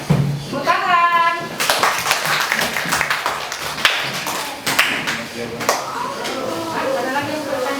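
Audience at a school workshop claps in scattered, uneven bursts, with sharp individual hand claps close by, while people talk throughout.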